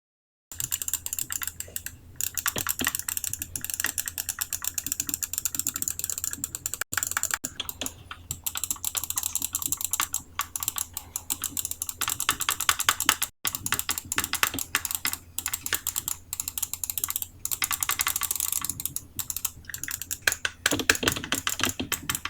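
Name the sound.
typing on keyboard after sanding switch edges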